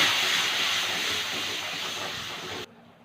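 Water hits frying spice masala of Kashmiri chilli and cumin powder in a pan, raising a loud, close, continuous hiss that eases slightly before cutting off abruptly.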